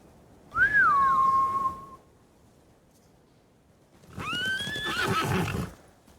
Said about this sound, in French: Ces idiots ont fait peur aux chevaux.